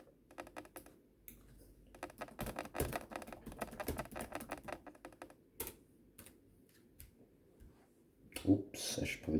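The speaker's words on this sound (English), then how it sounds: "Oops, I should probably type in Lego." Fingers tap out bursts of keystrokes on a computer keyboard while searching online for Lego prices, the clicking rapid and close with short pauses between runs, and a louder clatter near the end.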